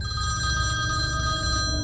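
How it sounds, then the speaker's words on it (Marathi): A police station telephone rings with a steady electronic bell tone, loud and continuous throughout, heard alone with no voices. "आणि एक दिवस चौकीतला फोन खणाणला."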